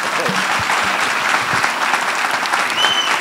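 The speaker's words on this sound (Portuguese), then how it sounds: "Palmas para o Ricardo." Audience applause after a business talk at a conference event, a steady dense clapping from a full room that holds at an even level throughout, with scattered cheers and voices mixed in.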